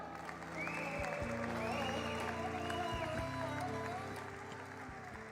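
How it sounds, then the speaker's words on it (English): A live audience at a stock exchange listing ceremony applauds for several seconds, a steady wash of clapping with a tonal hum and music running underneath. "Let's do an applause check"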